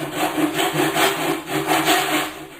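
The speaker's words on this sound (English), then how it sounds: "when you're cutting plywood, keep your saw really low" A hand saw cuts through plywood while making a drawer, pushed in a steady back-and-forth rhythm of about four rasping strokes, close and loud.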